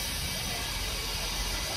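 Steam locomotive at Tanfield Railway, the engine at the front of a heritage train, letting off a steady, continuous hiss of steam that stays fairly loud throughout, with no talk over it.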